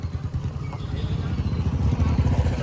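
Motorcycles rumble as they arrive at a crowded football ground for the Jhapa Women's Gold Cup in Nepal, a low, uneven engine drone at moderate distance mixed with background voices.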